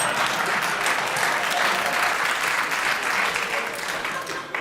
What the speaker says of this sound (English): Your round of applause there was for what you said, Clement